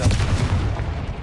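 A Confringo spell explosion in the video game Hogwarts Legacy, heard as one loud, deep rumbling boom filling the whole brief moment and fading slightly toward the end.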